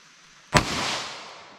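A single sharp 9mm pistol shot, firing a Speer Gold Dot 124 grain +P round from a 5-inch barrel, cracks out loudly alone, followed by a long, fading echo.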